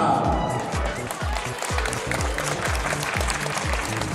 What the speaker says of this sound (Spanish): ¡Los aplausos para Fátima!